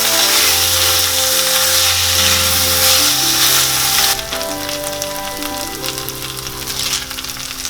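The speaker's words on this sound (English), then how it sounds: "My rice has been frying for a minute" Rice fries in a pan with cumin seeds, giving a loud, continuous sizzle close up that drops to a quieter, steadier crackle partway through, with no talking.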